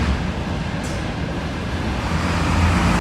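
City traffic in Dnipro rumbles steadily as cars slow and stop, a broad, constant road noise with deep engine hum throughout and no clear voices.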